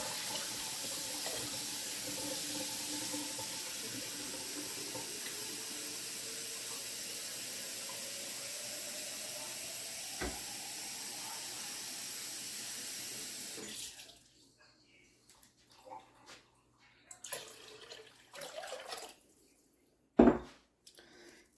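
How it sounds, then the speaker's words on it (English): Tap water runs steadily into a pot for about fourteen seconds while broth is being started for homemade chicken and noodles, then stops, leaving a few faint kitchen clatters and one sharp knock. "Adding some water to this."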